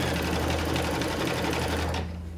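An embroidery machine stitches a short accent line on a bow for a zipper bag, a steady fast mechanical whir and needle patter that runs loud and continuous before cutting off near the end.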